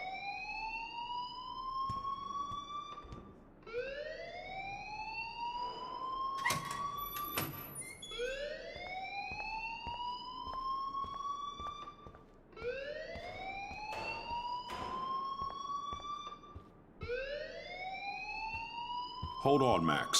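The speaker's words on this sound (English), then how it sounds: "please turn off that alarm since that's your job." A repeating alarm rings in the video game Life is Strange, each cycle a loud rising electronic wail that sweeps upward and restarts every few seconds, with other game sounds and faint voices underneath.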